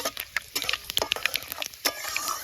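Spices and dried red chillies fry and crackle in mustard oil for a star fruit pickle while a spoon stirs the pan. Sharp pops and scrapes come through clearly and close, with no voices.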